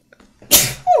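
A single sharp sneeze bursts out loud and close, preceded by a faint intake of breath and followed by a short voiced exhale, in a quiet room during a German-language livestream of Hollow Knight.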